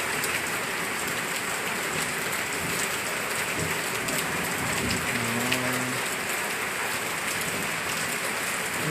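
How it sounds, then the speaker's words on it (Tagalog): Heavy rain pours down steadily during a flood, a dense, unbroken hiss that holds at constant loudness throughout, with a few faint tonal sounds briefly rising beneath it. "Unta nga mohunong na ang ulan."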